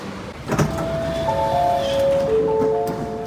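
Sydney Metro train doors sliding open at a city station platform, a rising electric whine and chime tones over a brief thump, close and clear.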